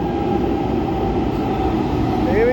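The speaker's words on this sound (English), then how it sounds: "Metro arrives." A metro train pulling into a station in Pune, a loud close steady rumble of carriages with a rising squeal of wheels or brakes near the end.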